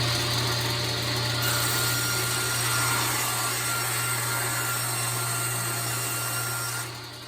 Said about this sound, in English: I usually like to come out about 1/4 inch or 1/2 inch above the surface of the wood, and that gives me a really nice cut when I'm ripping.